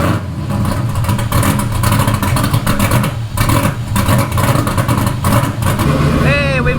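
An LS V8 swapped into a Datsun 260Z idles and runs steadily with a deep, continuous rumble close by, and a brief rising whine comes near the end.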